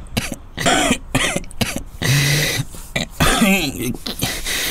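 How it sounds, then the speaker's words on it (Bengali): Several sharp coughs come in quick bursts, close up, with throat clearing and short vocal sounds between them. "গলা ব্যথা আর কাশি হয়েছে"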